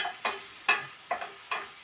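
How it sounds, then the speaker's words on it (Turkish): Sizzling in a hot pan with periodic louder bursts every half second or so, like onions being stirred as they fry; no voices. "Şöyle güzel bir soğanlarımızı kavuralım."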